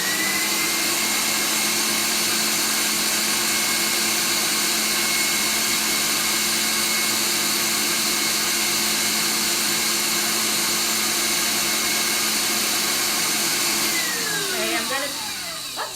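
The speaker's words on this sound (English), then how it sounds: "I'm almost done whipping this, so let me turn the mixer back on" An electric mixer whips to stiff peaks with Madagascar bourbon vanilla bean paste, giving a loud, steady, close whir that holds without a break and then winds down as it is switched off near the end.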